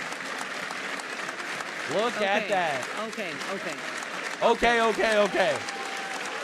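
Members of the European parliament applaud a vote on deportation rules, a steady round of clapping in a large chamber that swells near the end while voices speak over it.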